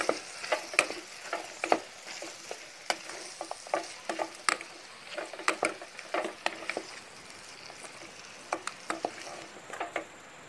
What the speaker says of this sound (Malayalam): ഇതിലേക്ക് ഒരു ടീസ്പൂൺ കുരുമുളക് പൊടി ബീഫ് ഇവ ചേർത്ത് നന്നായി വഴറ്റി കൊടുക്കാം